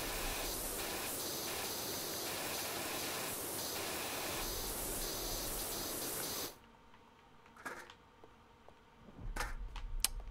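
A pressure washer in PowerWash Simulator sprays in a loud, steady hiss for several seconds, then cuts off, leaving brief clicks before the spray starts up again near the end.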